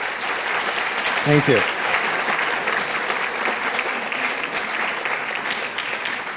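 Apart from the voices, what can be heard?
audience applause for sponsors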